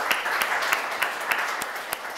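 Studio audience applause on a talk show set, a moderate burst of clapping from a small group with several distinct loud claps standing out in an uneven rhythm, close and fairly loud with no talk.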